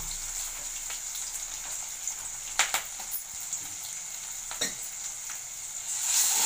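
Ginger garlic paste and onions sizzle steadily in hot oil in a pan for mutton cabbage kootu, with a constant frying hiss, a few stirring clicks and louder pops near the end.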